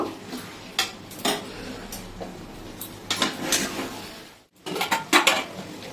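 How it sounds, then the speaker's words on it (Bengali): Potatoes and mutton go into a pot of spiced oil for mutton curry, with a series of close metal clatters and scrapes against the pot and a brief quiet gap before louder knocks near the end. "এবার আমি আলু মাটনটা দিয়ে দেব।"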